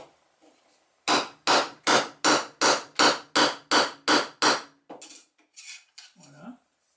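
Hammer driving a nail into bamboo wood while making kitchen tongs: about ten sharp, evenly spaced metallic blows, loud and close, followed by a few lighter taps.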